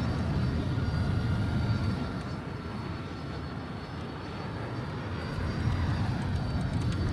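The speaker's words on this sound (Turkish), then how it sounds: "sen hala aynı uçakla uçuyorsun" Airplane engine while flying in the video game Battlefield 2042, a steady, loud, broadband drone that holds for several seconds, dipping slightly in the middle before swelling again, with no talk over it.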